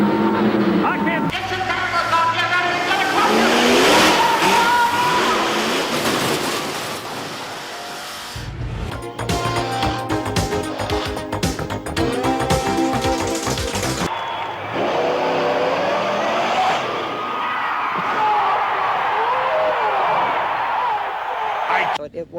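Bigfoot monster trucks race side by side in an early-1990s arena event, engines roaring loudly and continuously with revving surges and crowd noise, under an announcer's excited commentary.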